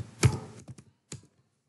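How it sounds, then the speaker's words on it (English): A few keystrokes on a computer keyboard, one heavier tap followed by lighter clicks and a last press, close and clear with no talking. "Just for example, I am typing incident over here."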